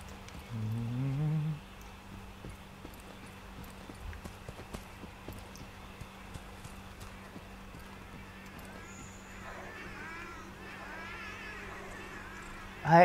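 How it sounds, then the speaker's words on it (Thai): A cat meows faintly in Monster Hunter World: Iceborne among other game sounds, after a brief louder burst at the start, with a few soft mewing calls toward the end. "เฮ้ยได้ยินเสียงแมว"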